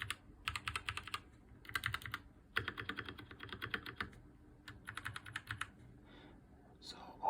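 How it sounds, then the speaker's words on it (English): Typing on an FL Esports F12 hot-swap mechanical keyboard fitted with KO Polia switches makes bursts of quick, clacky keystrokes separated by short pauses. The sound is close and soft, with no speech over it. "So I'm gonna talk about the Polia switches,"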